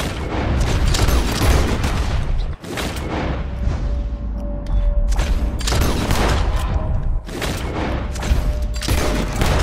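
Gunfire aimed at birds in Red Dead Redemption 2 on PlayStation 5, loud booming shots in quick bursts and rolling echoes, one after another with brief pauses.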